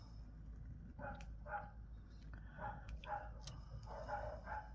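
Neighbourhood dogs barking outdoors at some distance, a few rough bursts of barks recurring over a low steady background hum, moderately faint and with no one talking.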